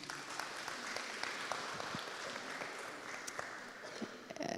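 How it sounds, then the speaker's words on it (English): An audience at a community health meeting in Mpumalanga claps steadily together, a dense sustained patter of many hands in a room, lasting throughout and tapering slightly at the end. "by a clapping of our hands to just thank you for your boldness"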